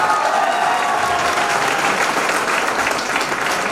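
A loud, steady wave of audience applause fills a promotion ceremony hall in Begusarai, with dense clapping from a large crowd continuing without a break.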